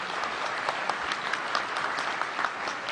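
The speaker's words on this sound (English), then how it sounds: "Let's give the President a round of applause." A crowd at an ICT summit in Manila applauds the President steadily, a dense wash of clapping from many hands with no pauses.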